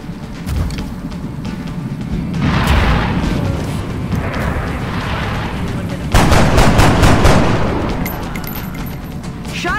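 Gunfire in the turn-based strategy game XCOM: Enemy Unknown, loud dense bursts of shots and booming impacts rolling on continuously, with a sharper heavier volley partway through.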